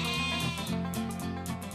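A sheep bleats in a steady, wavering cry that fills the whole short moment, close and loud, with a tonal musical bed running underneath.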